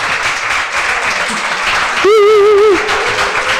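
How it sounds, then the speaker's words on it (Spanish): Applause for a station hostess at a lecture, a dense burst of audience clapping that holds steady for a few seconds, with a brief whistle partway through. "Hay que darle un aplauso muy fuerte a la azafata de la estación."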